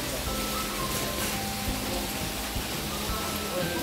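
Steady rain pours down onto pipes at an animal shelter housing turtles, a dense continuous hiss and patter close by, with brief talk faintly underneath.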